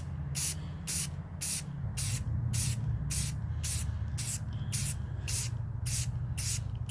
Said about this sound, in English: lightly spray seal it one time